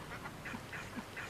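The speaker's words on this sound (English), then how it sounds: "Here we are, ducks." Ducks quacking in a repeated rhythm somewhere in the Ribble Valley countryside of Lancashire, a fairly faint, steady series of calls with no talking over them.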